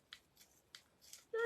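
A few crisp snips of scissors cutting rice paper for decoupage, close and quiet, ending with a short voiced sound.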